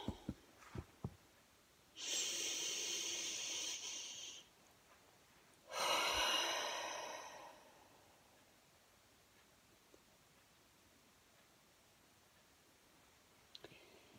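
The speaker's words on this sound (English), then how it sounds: "Deep breath." Two long, deep breaths taken close to the microphone, a slow drawn-in inhale and then a full exhale, each lasting a couple of seconds, in an otherwise quiet room with a few faint clicks.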